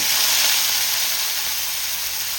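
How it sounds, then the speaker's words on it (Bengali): Small shrimp frying with nigella seeds in hot mustard oil, a loud, close, steady sizzle with dense bright hiss that holds evenly throughout, no voices. "চিংড়ি মাছটা একটু ভেজে নেব হালকা করে"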